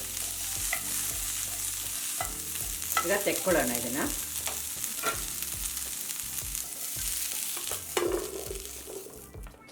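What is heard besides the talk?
frying and stirring cauliflower on high flame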